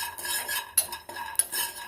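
Spices such as poppy seeds, cinnamon and cloves being stirred as they dry-roast in a pan for a stuffed brinjal masala curry; a spoon scrapes close up in repeated strokes with a few sharper clinks against the metal, and no one speaks.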